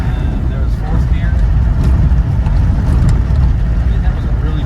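Interior drone of a 1994 Land Rover Defender 90 with its 200Tdi diesel pulling in fourth gear, a constant heavy low rumble with road noise and faint rattles.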